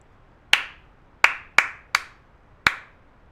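A teacher claps out a rhythm alone in a quiet room during a Year 1 music lesson: five sharp, close claps in an uneven pattern, two of them quickly paired, each with a short ring-off.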